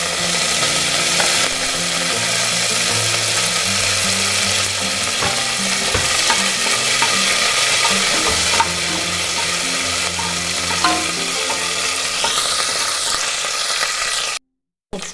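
Fenugreek leaves frying in a pan for methi pulao, a steady loud sizzle with repeated scraping stirs of a spatula throughout, brief running water near the end, no talking.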